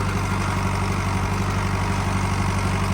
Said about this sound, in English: this is 6 Deere pulling the disc up the hill